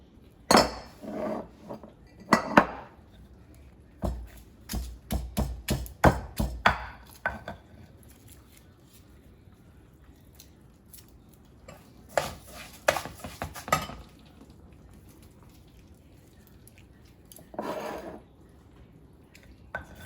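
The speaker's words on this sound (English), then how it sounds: "I'm gonna do 3 fresh garlic on my molcajete" Fresh garlic cloves crushed and ground in a stone molcajete, sounding as sharp knocking and scraping strikes in irregular bursts, dense early on, then a later cluster and one final scrape, close by with no talk.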